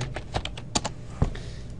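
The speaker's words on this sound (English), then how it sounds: "I'm going to type iDeform for Maya" Quick keystrokes on a computer keyboard, a rapid run of about a dozen close, crisp clicks with a couple of heavier taps, heard alone.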